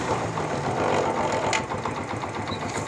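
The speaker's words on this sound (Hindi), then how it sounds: "ये बिल्कुल ही हाफ किक स्टार्ट हो गया है।" Honda CD70 motorcycle engine idling right after a half-kick start, a steady close-up putter with a rapid knocking rhythm that runs without any talk.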